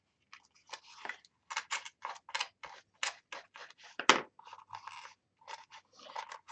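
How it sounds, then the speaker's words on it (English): A stylus peels and tears layers of corrugated cardboard in short, crisp, papery rips and crunches, close and quiet, in an irregular rhythm. "Just take your stylus and peel off different areas."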